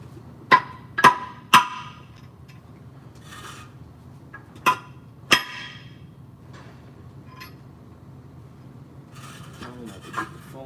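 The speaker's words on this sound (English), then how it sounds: "you gotta get your hammer, and you gotta tap them in" Sharp metallic hammer taps ring out, three in quick succession, then two more after a pause, with quiet scraping and rubbing near the end.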